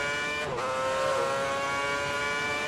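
A Formula 1 car in the F1 2010 video game accelerates on Singapore's night circuit, its high-pitched engine whine rising steadily and holding loud and close.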